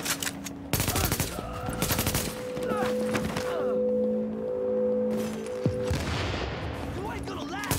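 Bursts of automatic gunfire rattle through a firefight in the video game The Division, with long rapid volleys and sharp single shots under tones from the game and some speech.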